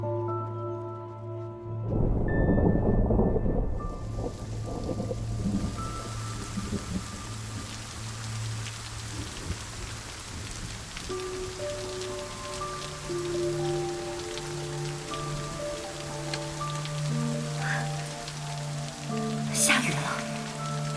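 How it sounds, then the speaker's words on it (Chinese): Steady rain pours down on a street in an ancient-costume drama scene: a dense, even patter after a brief louder burst at the start, with soft background music and no clear thunder. "下雨了。"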